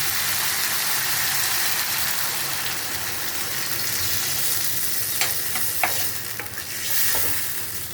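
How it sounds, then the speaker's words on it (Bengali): Fried potatoes being stirred in a pan before water is added, a steady sizzle with scraping strokes and a few clinks near the end, no voices. "ভালো করে একটু নাড়াচাড়া করে"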